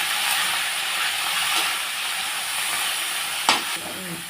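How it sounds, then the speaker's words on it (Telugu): Ridge gourd peel fries in hot oil with green chilies as it is stirred in a pan, giving a continuous soft sizzling hiss with an occasional scrape or clack of the spoon. "వేగాక ఈ బీరకాయ పొట్టు వేసుకోవాలండి. ఇలా మంచిగా కలుపుతూ ఉండాలి."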